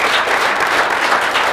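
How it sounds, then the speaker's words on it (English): Audience applause at a township council meeting honoring a sports team and its coaches, a steady dense wash of many hands clapping at close to moderate distance, continuous for the whole stretch without pause. "Give yourselves a big round of applause."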